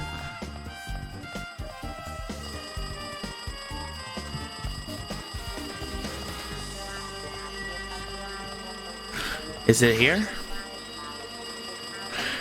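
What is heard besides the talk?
telephone ringing in the Danganronpa 2 video game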